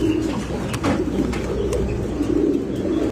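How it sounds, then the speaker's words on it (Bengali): A pair of Beauty Homer pigeons for sale coo continuously, a close, loud, low murmuring warble with soft bubbling pulses and a faint chirp or two. "এগুলো হচ্ছে বিউটি হোমা কবুতর"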